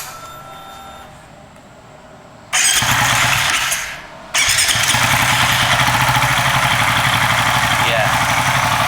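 A motorcycle engine fitted with an MSD-style ignition coil cranks and catches, then settles into a loud, steady idle with a brief dip before running on evenly.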